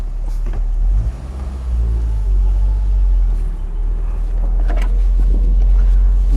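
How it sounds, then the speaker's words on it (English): A 1970s BMW E21 320is Turbo cruising through a neighborhood, heard from inside as a steady low engine rumble with road and wind noise throughout, close and continuous. "to take a spin in the 320is Turbo. I'm gonna go for a little nice cruise around the neighborhood here"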